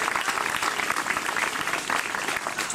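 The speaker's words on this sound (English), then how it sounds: "we'll pass on a round of applause to her" Applause from a family reunion audience, steady and dense, sustained clapping from a full room for the whole stretch.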